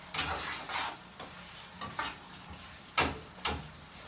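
Plantains frying on a stovetop give a soft steady sizzle, broken by several sharp scraping stirs and clinks of a utensil against the pan, no voices.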